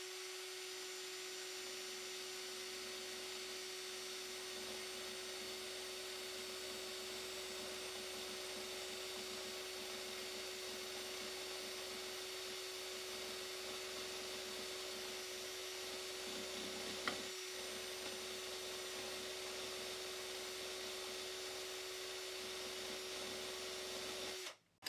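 An electric drill spins a magnet just above a loudspeaker, giving a continuous, fairly faint mechanical whir with a steady hum, one brief knock near the end and an abrupt stop.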